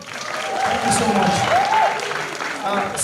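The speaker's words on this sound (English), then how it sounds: "I mean, you can see the clap" A live audience claps after a technology pitch at an academia-to-industry event, a dense wash of applause swelling and holding steady for about three seconds, with a few voices murmuring underneath.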